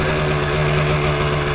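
A 1988 Yamaha DT200 two-stroke enduro motorcycle engine drones steadily while riding, a loud, constant buzzing tone with no breaks, heard up close.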